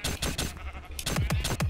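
Sheep in the Minecraft RLCraft video game bleat repeatedly in quick, wavering calls, several short bleats in a row, loud and close over a steady game background, no talking.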